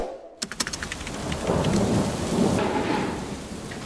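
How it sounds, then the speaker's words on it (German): Heavy rain pours steadily while a sharp crack of thunder breaks out, followed by a low rolling rumble beneath the downpour. "Oh nein, es regnet"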